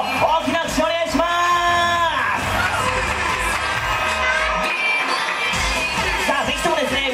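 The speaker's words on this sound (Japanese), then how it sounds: "皆さんもう一度大きな拍手をお願いします" Crowd at a birthday burlesque show cheers and whoops loudly in a sustained, dense wash of voices and applause, with shouts rising above the din throughout.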